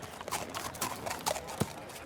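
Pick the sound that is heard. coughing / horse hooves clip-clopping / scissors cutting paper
horse hooves clip-clopping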